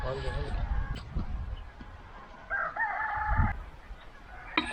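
Chickens cluck close by, and a rooster crows partway through, with people talking in the background.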